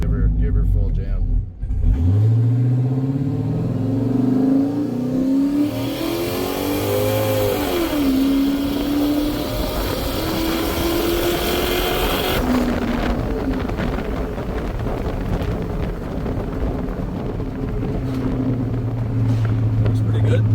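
A turbocharged Chevrolet Silverado on a custom tune pulls hard at full throttle, its engine note climbing through the gears with shifts and a loud, sustained roar, while a person talks over it.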